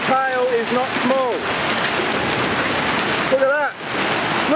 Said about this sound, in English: Look at the size of some of the hailstones here. I'm literally getting hit by a hailstone.